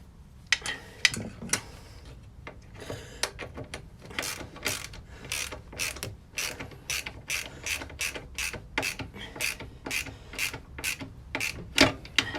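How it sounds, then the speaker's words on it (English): A spanner ratchets on the silencer bolts of a Royal Enfield Meteor 350 motorcycle in a long run of quick, close metallic clicks. The clicks come in regular bursts, with short pauses between the strokes. "And then we'll turn it with the spanner."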